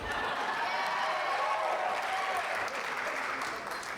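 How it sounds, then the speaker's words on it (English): Wedding reception guests clap steadily at moderate distance, a sustained wash of applause from the crowd over soft background music. "let's give him a round of applause too."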